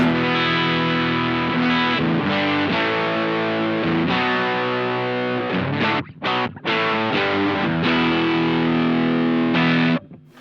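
An electric guitar through a Pigtronix OFO Disnortion octave fuzz pedal in bass mode plays thick, buzzing chords with a deep low end, briefly cutting out twice before resuming and stopping abruptly.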